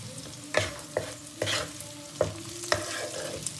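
Vegetables for fried rice frying in a wok, with a spatula stirring and scraping in several distinct strokes over a steady low sizzle, close by and fairly quiet, no voices.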